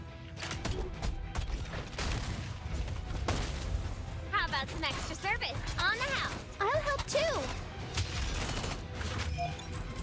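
Mech units firing in the video game Mecharashi, rapid bursts of gunfire mixed with mechanical clatter and game effects under a person talking throughout.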